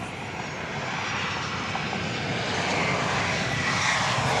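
Southwest Boeing 737-800 arriving at Dallas Love Field at night, a steady, moderately distant jet engine rumble building slightly, with no talk.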